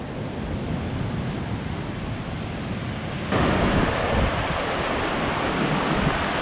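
Ocean waves break near a cliffy island headland, a loud, continuous roar of surf mixed with wind buffeting the microphone, swelling slightly midway through.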